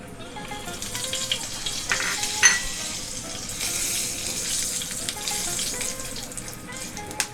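Whole spices (cardamom, cinnamon, cloves, bay leaf and black peppercorns) fry in ghee in a pan with a soft, continuous sizzle, punctuated by occasional stirring knocks and clinks close by.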